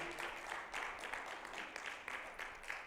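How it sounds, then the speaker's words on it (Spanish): A church congregation claps steadily in a dense, rhythmic wash of applause, heard at a moderate distance. "Déselo fuerte a Jesús, hermano, ese aplauso"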